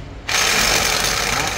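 A rotary hammer drill in chisel mode starts abruptly after a brief pause, then keeps up a loud, steady, buzzing hammering drone at close range.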